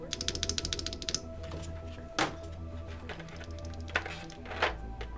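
Typing on a newly built REKT1800 mechanical keyboard with tactile switches on an FR4 plate: a burst of quick, crisp, clacky keystrokes at the start, then scattered individual louder clacks and thocks with pauses between, close to the microphone.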